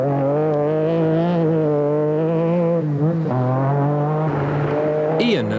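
An MG Metro 6R4 rally car, the QCR Motors entry in the 1988 Esso Metro Super Challenge, runs fast on a forest stage. Its engine drones loud and close, dips as it changes gear, then revs again, ending in a brief squeal.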